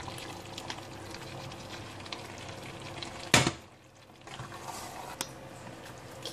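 Boiled potatoes are tipped into a pan of chicken rendang with roasted coconut, a sudden splash and sizzle mid-clip settling back into a quieter, steady frying hiss, with a faint clink near the end.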